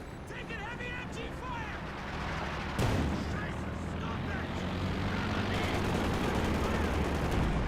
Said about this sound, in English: looks like another major artillery onto this guy here